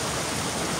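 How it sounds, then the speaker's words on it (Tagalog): Powerful rushing water like a river running underground, a brief burst of loud, steady roaring at close range. "Ay yung tubig, oh, napakalakas."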